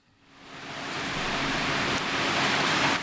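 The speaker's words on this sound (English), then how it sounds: "It's still raining outside." Monsoon rain falls outside, fading in from quiet to a steady, soft hiss that holds evenly, faint and distant as if heard from indoors behind a window.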